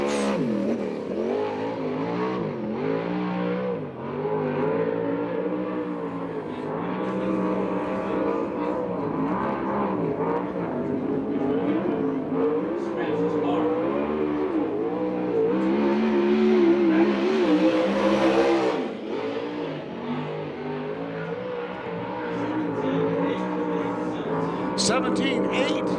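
USAC/CRA sprint cars race on the Tucson, Arizona track, their loud engines droning and revving continuously with rising and falling pitch as they pass, while an announcer talks over the noise throughout.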